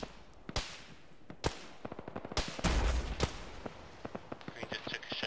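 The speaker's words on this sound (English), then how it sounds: "Green just took a shot" Gunfire in an Arma-style ShackTac military game session: several sharp, distant-sounding cracks spaced irregularly, with one heavier report, over faint radio-like background noise and crackle.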